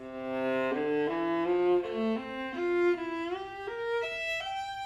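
A solo viola plays a slow melodic line, with notes gently sliding between pitches in a smooth glide, close and clear with no talking.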